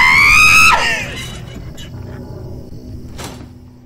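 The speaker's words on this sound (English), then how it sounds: "Sorry, I did not mean to scream." A person lets out a loud, high-pitched scream of fright during a horror game, about a second long, then fades into quieter ambient game sound with a brief thump near the end.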